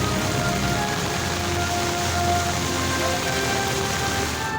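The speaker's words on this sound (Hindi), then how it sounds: "7:15 पर शुरू होने वाली बारिश से जल थल एक हो गया।" Heavy monsoon rain pours steadily over Lahore's waterlogged roads, a dense, even hiss with no break.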